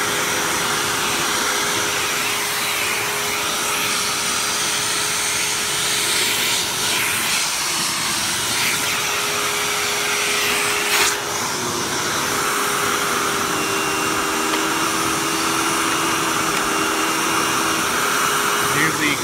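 A Hoover Tempo Widepath upright vacuum cleaner runs at strong suction, a loud, steady, continuous roar with a sustained whining tone and small shifts in pitch, heard close by.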